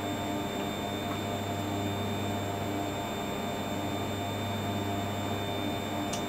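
A vacuum pump evacuates the transfer chamber of a cryo-EM FIB instrument, a steady close electrical hum with constant broadband hiss and faint tonal whines, unchanging throughout.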